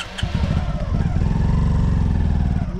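A Hero Super Splendor motorcycle labours up a steep climb on a mountain road toward Mustang. Its engine gives a loud, close, continuous low drone with a rapid throbbing firing beat that holds steady throughout.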